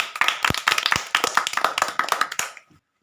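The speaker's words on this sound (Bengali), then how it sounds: "জোরে একটা হাততালি" Loud, steady hand clapping rings out at a village ludo pawn-rolling game competition where the prize is a cake, with rapid claps lasting about two and a half seconds before stopping abruptly.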